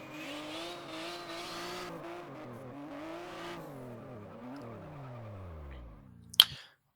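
In the rFactor racing game, a drifting car is given too much throttle: the engine holds a high rev whine, then drops in pitch as the car slides, ending in a sharp impact, with no talking.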